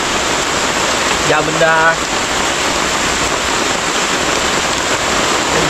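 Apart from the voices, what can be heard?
heavy rain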